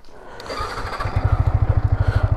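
A village vehicle's engine, likely a motorbike, turns over and fires, then runs in a rapid, regular thudding idle that grows louder and close by, with no speech over it.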